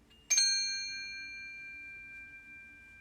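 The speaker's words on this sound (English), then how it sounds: "I'm going to ring the bell and just listen as long as you can." A single bell or singing bowl struck once in a quiet children's yoga class, a bright metallic strike followed by a clear ringing tone that slowly fades over several seconds, alone in a hushed room.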